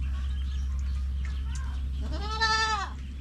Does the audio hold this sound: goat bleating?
yes